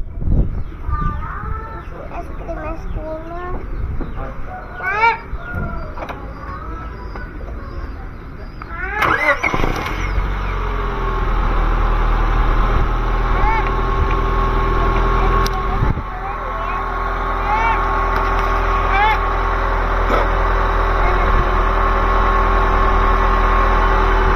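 A Honda Stream car engine cranks and starts after a radiator coolant change, then settles into a loud steady idle, with birds and roosters chirping and a voice speaking nearby.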